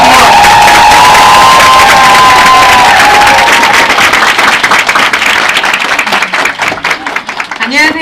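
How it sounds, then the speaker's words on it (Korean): A large audience welcomes a speaker with loud, sustained applause, cheering and whoops, with a sung or shouted voice over the start and the clapping thinning toward the end. "여러분들 김문주 사님을 큰 박수로 환영하겠습니다."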